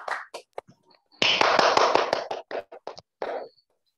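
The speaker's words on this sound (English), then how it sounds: "once more, give applause for the beauty of 11 MAPK" An audience at a bilingual storytelling contest in an Islamic boarding school bursts into a short round of hand clapping, which swells briefly then breaks into scattered claps and a few last isolated ones.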